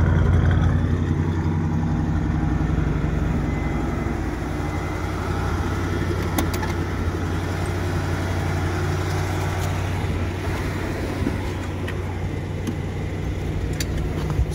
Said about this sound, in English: Let's see if we can kick down that fast idle.